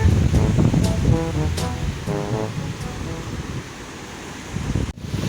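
Big sea waves at a swimming beach give a loud, steady roar of surf with a low rumble. Voices talk faintly over it early on.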